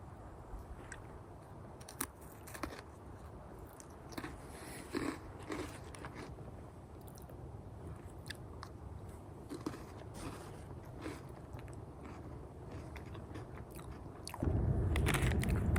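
Someone outdoors on a shed-hunting trip eats crackers topped with tuna, giving soft close crunches and chewing between faint rustles, with a louder burst of wind or handling noise at the end.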